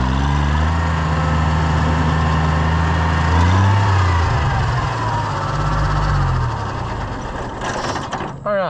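An Oliver 356 riding mower engine, under repair, rumbling loudly up close, then revving higher as the pitch climbs and settles into a sustained throaty roar before easing off near the end.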